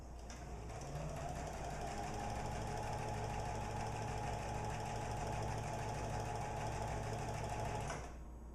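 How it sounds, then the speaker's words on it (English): A sewing machine runs a continuous straight stitch along fabric, with a steady fast mechanical whir and rapid needle chatter that holds evenly for several seconds and stops near the end, close to the listener, with no talk. "So now we can straight stitch all the way down to the end where we want to stop our stitching."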